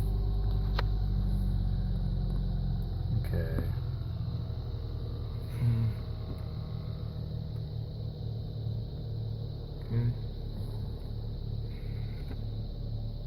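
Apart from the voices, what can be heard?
car engine idling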